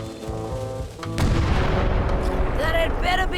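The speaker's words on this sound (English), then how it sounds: "Ready for cannon firing." Cannon fire in the pirate adventure game Return to Monkey Island: a sudden loud boom breaks in partway through, followed by a dense rumbling roar, over background music with a voice entering near the end.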